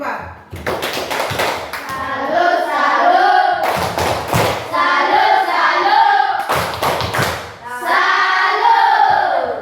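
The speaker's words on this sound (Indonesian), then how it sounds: "Tepuk salut untuk kelompok 4." A class performs the 'tepuk salut' clapping routine for group 4 in a classroom, three rounds of fast rhythmic group clapping and tapping, each ending in shouted chanting voices, close and loud.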